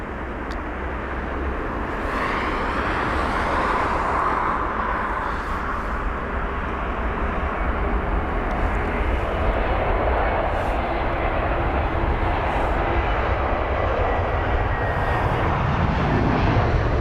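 An Emirates Airbus A380 airliner lands at London Heathrow with a loud, continuous jet roar heard from outside, steady throughout with a broad rushing hiss and a slight swell in the middle.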